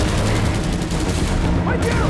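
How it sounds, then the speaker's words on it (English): Gunfire from the Halo TV series, episode 7, a dense, continuous rattle of shots and booms filling the scene, with voices talking over it. "All I hear is just the random gunfire"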